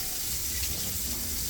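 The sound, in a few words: rinsing sprouting beans with water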